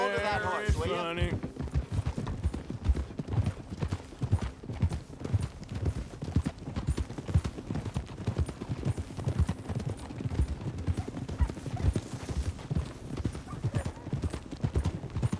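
Horse hooves clip-clop steadily and loudly through Red Dead Redemption 2 gameplay, a continuous rhythmic trotting beat with a brief whinny near the start and voices talking over it.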